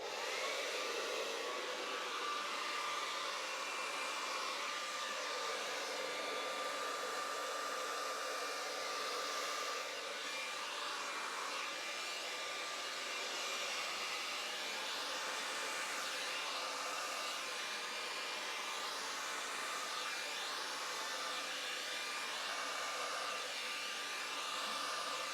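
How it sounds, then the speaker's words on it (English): A hair dryer runs on its cool setting, a steady broadband whoosh of blown air with a thin motor whine, continuous and close for the whole stretch, used while preparing a Dutch acrylic pour painting. "My hairdryer is on the cool setting."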